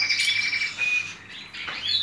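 Small pet birds, recently cleaned exhibition stock with white wings, chirp and tweet continuously for about two seconds in close, bright bursts with a brief dip in the middle.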